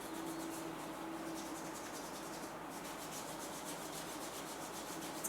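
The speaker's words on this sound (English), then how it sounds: "start to create that warmth by rubbing your hands along your foot" Hands rubbing along a bare foot and toes during a yoga session in a cold room, a soft, steady, continuous friction heard up close and alone.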